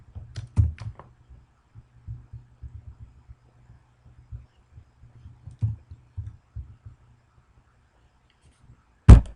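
Keystrokes on a computer keyboard, a quiet, irregular run of soft clicks and taps close by with brief pauses between bursts, ending in a sharper knock, with no speech.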